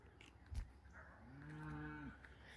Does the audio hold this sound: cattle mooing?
yes